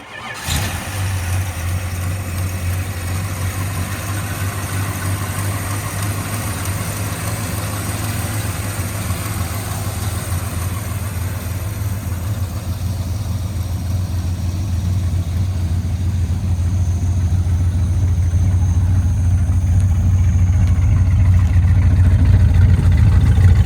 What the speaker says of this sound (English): When we start it up, Mike will do a walk around with it running. It's quiet as a mouse.